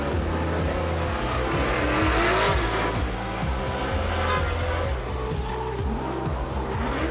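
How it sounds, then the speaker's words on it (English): Drift race cars sliding sideways at close to 100 mph, loud squealing tires mixed with high revving engines roaring steadily throughout, close and continuous. "it's the sound of the tires,"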